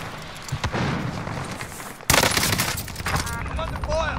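Gunfire in Call of Duty Modern Warfare arrives as bursts of automatic fire, with a sharp, loud volley kicking in midway, while a voice speaks over it.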